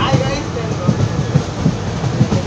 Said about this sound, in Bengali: এখন আমরা খাগড়া রেল স্টেশন ছেড়ে চলে যাচ্ছি